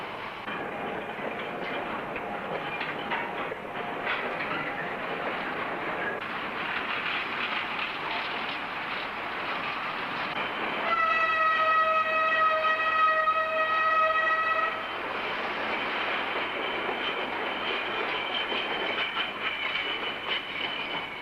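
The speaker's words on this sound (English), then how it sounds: "Progress can readily be inspected from one of the narrow gauge work trains." A narrow gauge work train rumbles along steadily, with a brief sustained whistle-like tone riding over the noise midway before the running sound continues.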